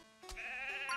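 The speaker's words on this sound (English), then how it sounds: "I wanted the sheep sound effect" A sheep bleats once in the Piczle Cross Adventure video game, a single wavering, nasal cry that swells and holds steady for under a second, clear and alone with no talk.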